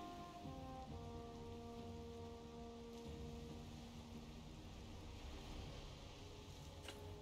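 Steady rainfall in the Valheim video game, a constant soft hiss of drops in a foggy, misty landscape, quiet and unbroken, with faint tonal game ambience beneath.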